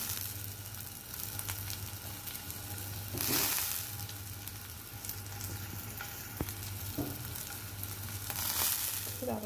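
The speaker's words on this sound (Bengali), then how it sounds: "এই মাছের তেলে লঙ্কা ভাজাটা হচ্ছে" Green chillies fry in oil left over from frying fish, a close continuous sizzle with occasional stirring scrapes and bursts of louder spattering.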